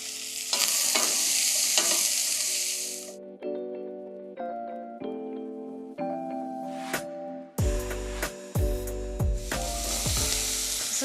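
Spinach, fennel and asparagus sizzle in a pot as they are stirred and seasoned with salt and pepper for soup; bursts of hissing frying come at the start and end, with quieter scraping and tonal sounds between.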